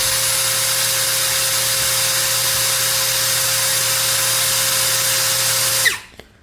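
A Tekiro XV 20V brushless cordless drill spins at speed setting 1 in drilling mode, a steady close motor whine with a constant hum that holds for about six seconds, then cuts off abruptly and winds down.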